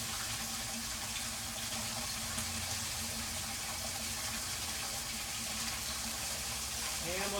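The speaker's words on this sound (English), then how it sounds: "Get the water going." Water runs steadily into a GOLDROP gold recovery system used to process Quikrete sand, a continuous broadband gushing and splashing that holds at an even level throughout, close by and without talk.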